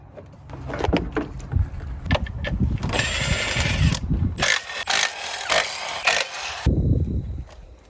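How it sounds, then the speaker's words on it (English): Mechanic's work removing the radiator and fan shroud from a 12 valve Cummins truck: irregular clunks, scrapes and a few sustained rattling bursts of plastic and metal, close and uneven. "I'm gonna go ahead and pull the radiator along with the shroud."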